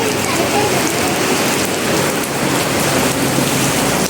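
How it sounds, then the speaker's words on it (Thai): Heavy rain pours steadily during an outdoor badminton game, a loud, dense, continuous hiss of drops hitting the ground and surfaces that fills the whole stretch without letting up. "ฝนตกหนักเลย"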